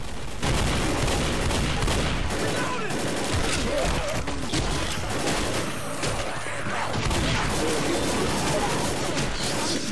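Dense, continuous gunfire from the Left 4 Dead zombie shooter fills the clip, with rapid overlapping shots and crashes at steady loud intensity, and voices faintly mixed underneath.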